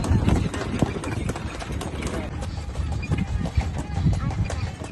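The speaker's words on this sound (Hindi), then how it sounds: "घोड़े ने स्पीड पकड़ ली है।" A horse picking up speed on a scenic trail, its hooves clip-clopping in a steady rhythm close by, with engine hum and background noise running underneath.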